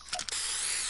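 A short, steady hiss of an aerosol spray paint can, faint and continuous for under a second after a few quick clicks.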